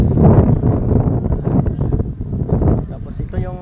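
Strong outdoor wind buffets a handheld phone's microphone, a loud continuous rumbling roar through the clip, with a person speaking briefly over it at the end.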